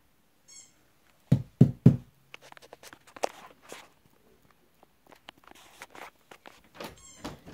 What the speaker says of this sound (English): someone knocked on the window